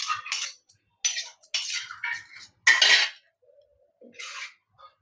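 A metal ladle scrapes and clinks against a kitchen pan while scooping ground tomato mint chutney, a series of sharp, close, irregular metallic scrapes separated by brief silences.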